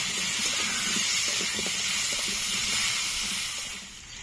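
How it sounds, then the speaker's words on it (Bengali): A spoonful of turmeric powder frying in a pan of vegetables for khichuri, giving a steady, close sizzling hiss with faint stirring clatter underneath. "এক চামচ হলুদ গুঁড়ো এবার ভালো করে ভেজে নেব"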